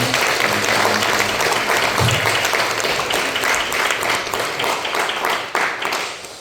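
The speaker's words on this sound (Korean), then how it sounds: "한번 일어서시면은 박수로 환영하고 축복하겠습니다" A church congregation at a Parents' Day Sunday service claps to welcome a guest, a full, steady round of many hands filling the room before tapering off at the end.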